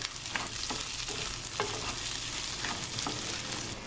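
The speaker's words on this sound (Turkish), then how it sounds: "Yıkayıp suyunu süzdüm. Üzerine tuzunu da ilave edelim. Birkaç dakika kavuralım." Washed, drained rice sautéing with salt in a pot for pilaf, a soft continuous sizzle with a few scraping stirs, fairly quiet and close.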